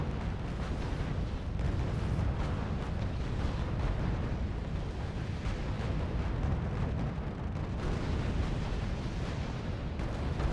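Anti-tank guns firing in a strategy war game with tanks and tank destroyers on the field: a dense, continuous battle din of overlapping booms and cannon blasts, steady and moderately loud throughout.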